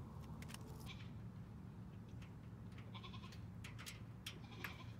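Goats on a small homestead farm make faint, scattered bleats and rustling noises close by, over a low steady background hum.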